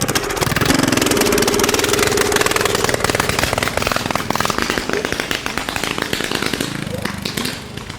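A 420cc Yerf-dog go-kart engine fitted with a Stage 1 kit and torque converter runs lumpy and loud close by, with an uneven, popping beat that fades slightly toward the end; a voice is faintly present under it.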